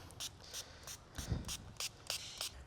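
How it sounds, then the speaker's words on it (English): Slip solution misted from a spray bottle onto paint protection film during DIY trim protection on a Tesla Model 3/Y, heard as a series of about seven short, close spritzes in a quick, uneven rhythm at low volume. "I'm gonna spray this down one more time."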